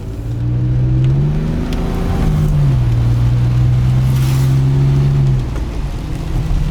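A rare 3.0 SI car engine drives and accelerates on the road, a loud steady drone that rises in pitch, dips, then climbs again before easing off near the end, heard from inside the car with no talking.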